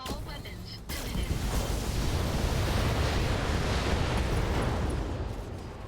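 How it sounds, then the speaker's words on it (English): An autocannon 10 ammunition explosion in the BattleTech video game bursts in loudly and then settles into a sustained, roaring rumble that fills the rest of the moment. "Autocannon 10 ammo explosion."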